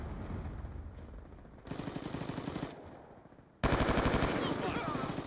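Rapid automatic gunfire from the video game Black Ops 2 comes in sustained rattling bursts, with a short pause before a louder, closer burst takes over.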